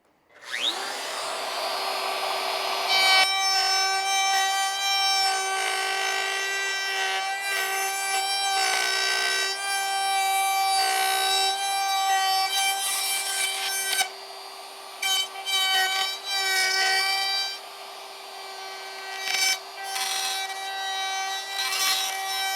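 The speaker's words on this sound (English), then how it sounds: "So what I'll do is I'll go ahead and router this out." A wood router cuts a hinge recess into a door edge, giving a loud, steady high-pitched whine with grinding bursts that run continuously for over twenty seconds, with brief dips in the middle and near the end.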